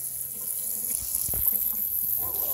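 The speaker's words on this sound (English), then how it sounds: "And I didn't turn the water up high." Water runs steadily at low pressure from the faucet of a custom-built outdoor garden potting sink, a continuous close splash and hiss with no talking.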